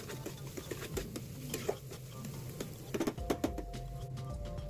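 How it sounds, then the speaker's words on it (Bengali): Onion, garlic, ginger and chopped tomato masala frying in a pan, heard as a soft sizzle beneath repeated close stirring scrapes and occasional taps from the utensil. "তো এগুলো দিয়ে ভালো করে আগে মশলাটাকে ভেজে নেব।"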